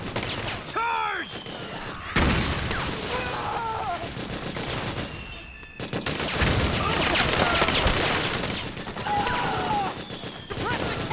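Sustained automatic gunfire from suppressing fire in Metal Gear Solid 4, dense bursts running loud and continuous over most of the stretch with a brief lull, voices shouting over it.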